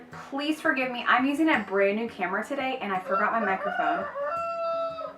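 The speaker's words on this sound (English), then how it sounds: "you might hear my rooster outside because he's going off today for some reason." A pet rooster crows outside, distant and partly masked, while someone talks close to the microphone indoors.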